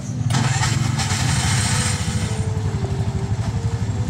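Bajaj RE auto-rickshaw engine cranking and catching, then running at a steady, loud, throbbing idle close by, with a faint voice in the background.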